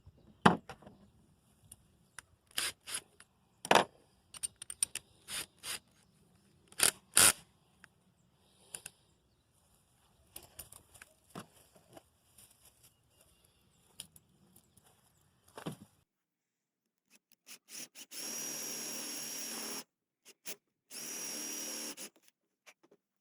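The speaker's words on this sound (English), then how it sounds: "I'm going to start by drilling a 1/2 inch hole into this piece of wood" Scattered clicks and handling knocks, then two short, loud bursts of a power drill boring a 1/2 inch hole into a piece of wood.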